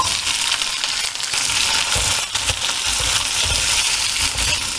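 Small shallots frying in a pan for a drumstick and tomato curry, a steady loud sizzle with scraping, crunchy stirring strokes throughout, no voices.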